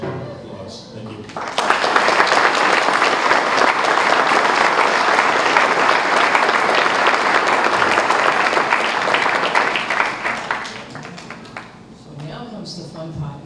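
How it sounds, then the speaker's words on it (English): An audience at a new school building's ribbon cutting bursts into loud, sustained applause that starts abruptly, holds strongly for several seconds, then tapers off, with some talking before and after. "I just hope we give Mrs. Lane and the people that I mentioned applause"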